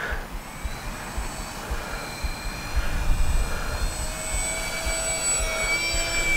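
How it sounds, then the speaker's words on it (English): An Avios Albatross V2 radio-controlled flying boat passes along a runway, its electric motor whine rising and swelling to a peak mid-pass then holding, moderately close with no talking. "We'll fly it out here and bring it right down the runway without landing"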